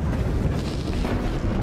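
Loud, sustained rumbling blast in the video game Valley, a dense roar filling the whole moment with no pauses, heard alone without talk.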